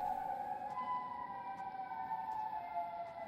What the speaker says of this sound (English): I hear his sirens.